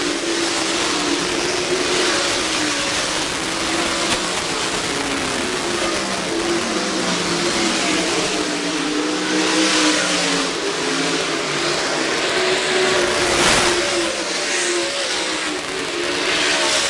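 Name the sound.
race cars racing around a speedway track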